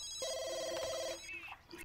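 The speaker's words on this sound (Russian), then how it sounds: "у нее звонит одновременно и мобильный, и домашний телефон" A telephone rings in The Sims life simulation game, with a landline and a mobile going off together: one clear electronic ring tone followed by a short chirp, loud and alone.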